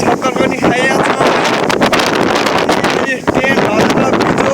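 Strong windstorm gusting in Karnali, a loud continuous roar and buffeting against the microphone with flapping, rustling bursts, steady throughout with a brief lull near the end.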